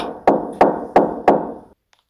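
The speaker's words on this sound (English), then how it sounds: "heard knocking again." Four evenly spaced knocks on a door, each a sharp, loud thud that rings out briefly before the next, followed by silence.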